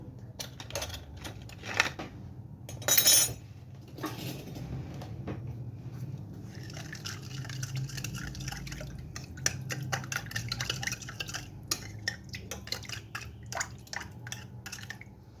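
Sugar and yeast are stirred together in a bowl, giving a long run of quick, light scraping and ticking strokes, close and fairly quiet, with a brief louder clatter near the start and no speech.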